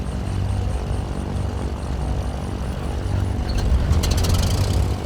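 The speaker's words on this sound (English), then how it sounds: "Engine start sounds are really nice." A Cessna 414 Chancellor's propeller engine in Microsoft Flight Simulator 2020 spins up and catches, a steady low droning roar that grows louder and rougher toward the end.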